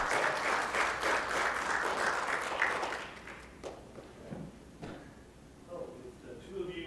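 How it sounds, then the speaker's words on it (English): Spelling bee audience bursts into loud, dense clapping for about three seconds, then it quickly thins to a few scattered claps amid quieter room noise. "Go ahead, you can applaud that."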